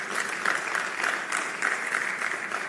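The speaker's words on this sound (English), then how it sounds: "a round of applause for her, please" Applause at the Africa Retail Congress 2023 honoring an author: a fairly faint, even crowd clapping heard at a distance, steady across the whole stretch with no voices over it.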